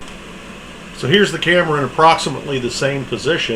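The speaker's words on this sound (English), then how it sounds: "I do have a little electric heater running, which is the background noise you hear" A small electric heater runs in a workshop, giving a steady, faint whirring hum that carries alone at first and then continues under a voice.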